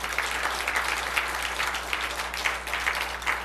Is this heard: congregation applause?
yes